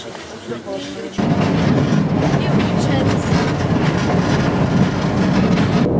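A metro train rumbles loudly through a tunnel, a sudden surge of roaring, rattling noise with rhythmic clatter that continues without pause.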